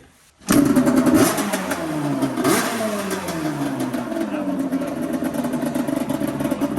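A Yamaha Banshee quad engine cranks and catches after a brief quiet moment, then revs loudly and keeps running in a rough, throbbing idle with rising and falling engine pitch.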